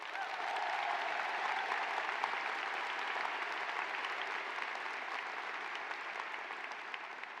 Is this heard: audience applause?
yes